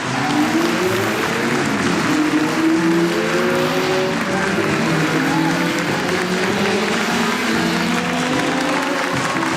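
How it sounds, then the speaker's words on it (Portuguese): Alain Prost's Formula 1 race car screams past on a broadcast, its engine whine rising and falling in sweeping pitches, loud and continuous beneath a roaring crowd-like wash. "O ruído que vocês ouviram não era do carro dele, é o do carro do Alan Prost"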